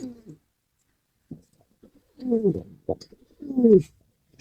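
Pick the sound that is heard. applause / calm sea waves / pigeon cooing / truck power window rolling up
pigeon cooing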